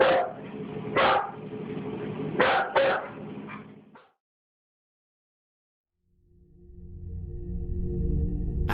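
A dog barks and yelps in several sharp bursts over about four seconds, followed by a silent gap and then a low rising rumble.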